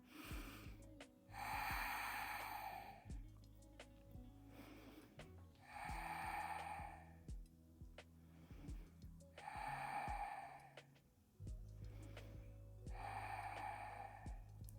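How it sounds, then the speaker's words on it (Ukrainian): During a yoga session, slow deep breaths come close and quiet, four long airy exhales spaced several seconds apart, each with a soft rasping hiss and no talk. "дихаємо."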